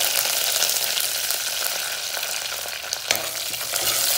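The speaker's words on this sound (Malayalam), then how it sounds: "ചൂടായ എണ്ണയിലോട്ട് ഞാൻ ഉലുവ ചേർക്കണേ." Fenugreek seeds and curry leaves sizzle in hot coconut oil in a pan, a steady, loud, close crackling hiss with faint stirring and no voices.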